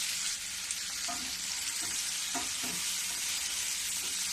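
Onion, tomato, ginger, garlic and green chillies frying in a pan give a steady sizzle, broken by a few soft scraping strokes of a spoon stirring the mix.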